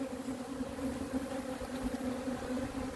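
Honey bees buzz around productive hives in Oklahoma, a steady, close droning hum that holds constant over a light outdoor background.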